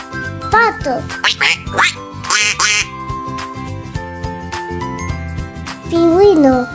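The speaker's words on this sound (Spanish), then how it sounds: "Pato." A cartoon duck quacks in a children's animal-sounds sequence, a few short bright calls set against a busy, jingly music bed with a child-like voice nearby.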